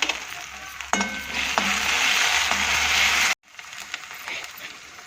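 Ginger garlic paste sizzles with onions and green chillies in a pan, a close, steady frying hiss with stirring clicks that cuts off abruptly and then resumes more quietly.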